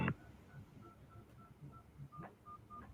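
Telephone keypad DTMF tones sound while a bank card number is entered on a phone, as a quiet, evenly spaced series of short beeps over faint background noise.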